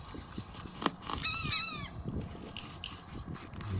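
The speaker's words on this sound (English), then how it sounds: "There goes the seagulls." Seagulls call in a short, high laughing series at a dock where a sheepshead fish is being filleted, faint and distant over outdoor background noise, one sharp nearby knock just before.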